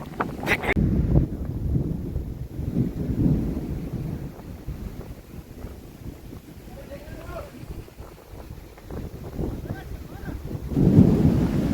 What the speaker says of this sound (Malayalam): ഫുള്ള് ഇടിമിന്നലും മഴയും കാര്യങ്ങളൊക്കെയാണ് നല്ല കാറ്റടിക്കുന്നുണ്ട്